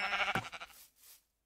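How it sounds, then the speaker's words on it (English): A Minecraft sheep bleats once, a single loud wavering cry standing alone near the start before the sound fades into quiet. "A sheep."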